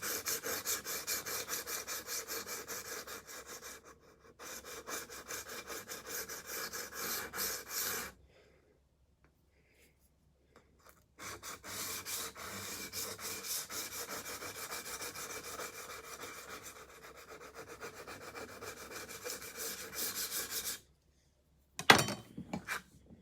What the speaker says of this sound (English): Sharpening one of Unc's kitchen knives here